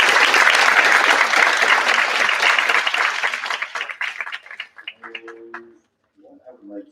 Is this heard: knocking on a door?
no